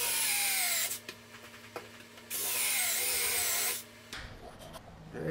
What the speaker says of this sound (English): And it drilled it out just fine.